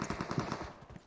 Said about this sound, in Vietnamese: Uầy, vẫn còn bắn kìa.